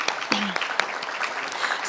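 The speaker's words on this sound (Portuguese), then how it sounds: "Uma salva de palmas." Audience applause for a speaker being called to the stage at a renewable-energy round table, a short burst of scattered clapping with some voices mixed in.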